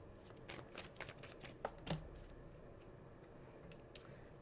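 Tarot cards being shuffled by hand during a reading, a quiet run of soft riffling flutters and light taps in the first half, then a single sharp tap near the end, with no talking.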